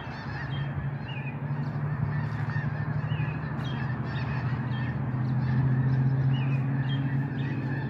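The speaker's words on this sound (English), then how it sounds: "there's just thousands and thousands of geese up here" Thousands of geese fly over Stanwood, Washington at night, a dense continuous chorus of honking that is loud, steady and overlapping, swelling slightly toward the end.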